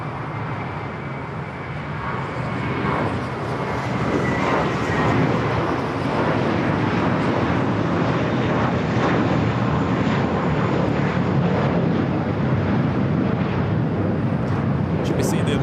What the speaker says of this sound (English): Got the Lufthansa King next up for arrival on the north side